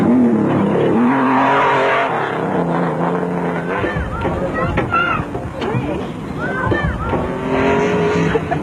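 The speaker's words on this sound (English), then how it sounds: "the normally restful atmosphere of rural Northwest Province was being shattered by the roar of thundering engines" Off-road racing vehicles from a Toyota team roar past in rural Northwest Province, South Africa, with loud engines revving and shifting over several seconds while someone narrates over them.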